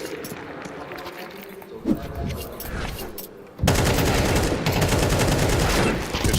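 Counter-Strike 2 gunfire in a tournament match, with scattered shots early followed by a sudden loud sustained burst of rapid automatic fire that runs to the end, while a commentator talks.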